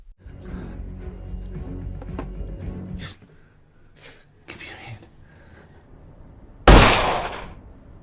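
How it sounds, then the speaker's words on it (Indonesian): A gunshot in a film scene lands as one sharp, loud bang that decays quickly, following quieter rustles and soft knocks. "Ellie tetap menembak Adam hingga meninggal"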